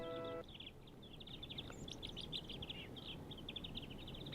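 A nuthatch chirps in quick, high, repeated notes close by, a steady run of bright calls over a soft outdoor hiss with no talking.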